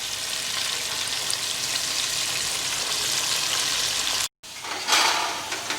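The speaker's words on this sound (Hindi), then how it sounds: "अब इसके अंदर ये जो हमारा चिकन है, इसे फ्राई कर लेंगे" Chicken for a dhaba-style curry fries in a hot pan with a loud, steady, close sizzle that cuts out for a moment before returning slightly stronger.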